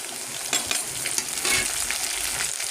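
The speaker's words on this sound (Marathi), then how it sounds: "आता याच्यामध्ये मी टमाटर टाकून घेते" Tomatoes just added to browned onions fry in a pan, giving a steady close sizzle with light scraping and stirring knocks throughout, no voices.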